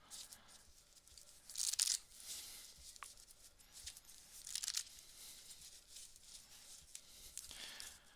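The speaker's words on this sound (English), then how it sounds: "So here's our first shuffle." A fresh, never-before-shuffled deck of playing cards is shuffled nearby for sleight-of-hand magic, giving quiet papery riffles in two sharp bursts with softer crinkling and taps between them and no voices.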